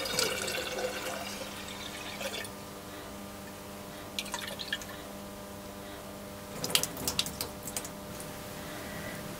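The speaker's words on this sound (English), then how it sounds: "The seeds are then washed out of the jug and collected in a sieve." Water splashes and drips as strawberry seeds are rinsed out of a jug into a sieve, with soft trickling throughout and a few brief bursts of splashing midway and near the end, close and moderately quiet.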